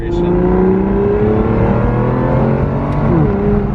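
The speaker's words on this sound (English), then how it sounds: "Here's a downshift." An Aston Martin Virage engine drones loud and close on a downshift, its steady, rich note holding before the pitch swings upward near the end.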